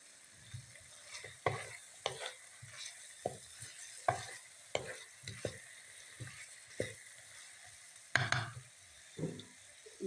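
A potato, pea and carrot curry with green chilies is stirred in a pan, with regular spoon scrapes and soft clacks about every half second over faint sizzling, close and quiet, with no talk.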